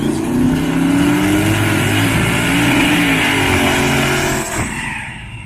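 A Chevrolet S10 race car idles and rolls forward at a night drag race, its engine a loud, throaty rumble with small revs wavering over the drone before fading slightly at the end.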